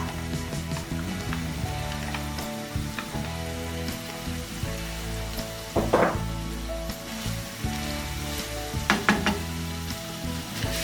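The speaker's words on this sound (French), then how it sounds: "Je vais ajouter mes oignons à ma viande pour les enrichir au goût." Chopped onions sizzle with minced meat in a hot pan for a hachis parmentier, a steady frying crackle throughout with occasional scraping stirs and louder spatters.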